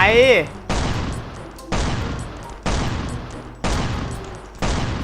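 Loud, close gunshots from the survival video game Last Island of Survival, about five heavy single blasts spaced roughly a second apart, each ringing off into a short tail, with a brief voice at the very start.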